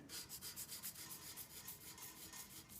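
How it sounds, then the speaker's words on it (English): Sandpaper rubbing along the wires of an epee blade to strip their silk-wrapped insulation, a steady, close scratchy rasp in quick repeated strokes, faint overall with no voices. "I'm going to strip the wires, again, with the sandpaper I did before."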